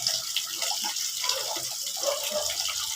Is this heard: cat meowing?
no